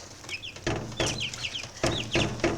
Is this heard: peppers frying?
no